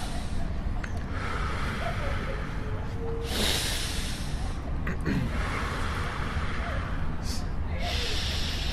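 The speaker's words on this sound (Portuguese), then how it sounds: "respirando, soltando, respirando mais fundo, soltando" Rapid Wim Hof method breathing during a demonstration that goes with a cold shower: a few strong breath bursts, in and out, rise over a steady background hiss at close range.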